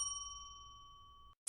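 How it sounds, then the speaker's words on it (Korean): A single bell ding signals a timing mark in a student debate contest, a clear ringing tone that sustains and slowly decays, alone on a quiet background. "2분이 지난 후 종소리 1회"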